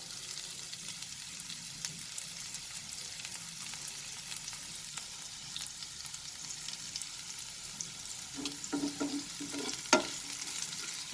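Chopped ginger and garlic fry over a lowered flame for chicken fried rice with a soft, steady sizzle; a few utensil clinks and stirring scrapes come toward the end, all quite faint.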